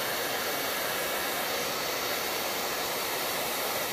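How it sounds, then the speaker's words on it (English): A handheld blow dryer runs in a steady, loud rush of airflow, used up close to heat-curl eyelashes, continuous and unbroken with no talking. "you can curl your eyelashes with your blow dryer."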